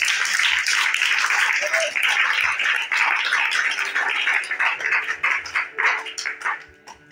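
A church congregation claps and cheers in praise of the Lord, steady rhythmic applause mixed with raised voices that gradually thins and fades toward the end.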